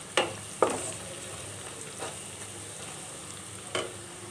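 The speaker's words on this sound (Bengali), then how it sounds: "এখানে আমি পেঁয়াজ আর গরম মশলা ভেজে নিচ্ছি" Onion and garam masala fry in a pan with a constant hiss, broken by a few sharp clacks of a spoon against the pan near the start and again toward the end.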